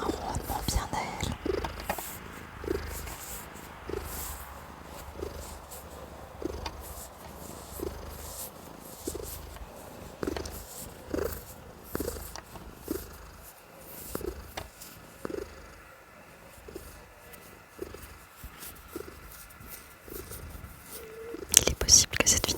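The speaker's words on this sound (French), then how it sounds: "Puis elle a un ronronnement bien à elle." A domestic cat purrs softly and rhythmically up close outdoors, a steady low pulsing purr that goes on alone with faint rustles around it.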